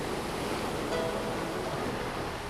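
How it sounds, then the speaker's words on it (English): Steady, close wash of water and surf around a boat moving slowly through the water, with a constant rushing hiss and no voices. "The boat is going slowly through the water, up and down."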